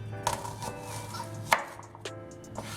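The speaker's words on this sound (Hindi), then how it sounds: "नेक्स्ट सबको कर लेंगे चॉप।" Onions and tomatoes being roughly chopped for tomato chutney, a few sharp, separate knife strikes on a board spread out over a quiet kitchen background hum.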